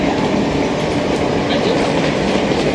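Steady rumble and rattle inside a Eurostar train running from Disneyland Paris to Gare du Nord, continuous and close, with a faint clickety-clack of wheels on rails throughout.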